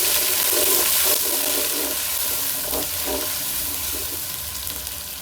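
Chopped onions with ginger and garlic frying in a pan, a steady dense sizzle with some stirring, moderately loud and close, with no talking.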